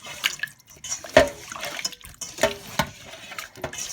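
Sea bass fish being washed under running tap water, with irregular splashes, drips and handling sounds, close and moderately loud, with no talk.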